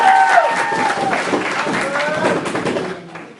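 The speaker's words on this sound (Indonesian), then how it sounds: "ayo buat Albert tepuk tangan" An audience at an introduction and discussion with candidates for APUIna chair applauds for Albert. Steady, close clapping runs throughout, with voices talking over it.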